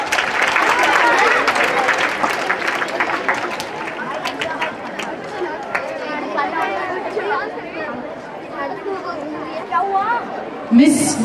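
Audience applause at an international film festival felicitation ceremony, with loud steady clapping mixed with crowd chatter throughout, fading slightly toward the end with a brief burst near the close.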